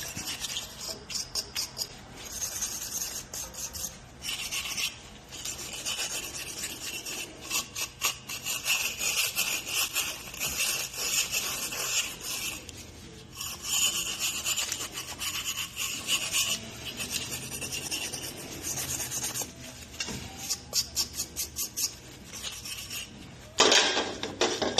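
Someone scrubs stain into the wooden stock of an AK-47 rifle with a continuous close rasping rub that runs in steady back-and-forth strokes, with short pauses and no talking.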